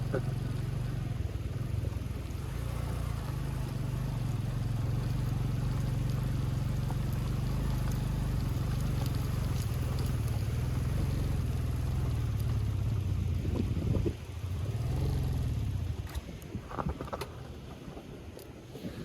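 An overheated motorcycle engine labouring loudly and continuously up a steep slope with a deep steady drone, then sputtering, fading unevenly and stalling toward the end.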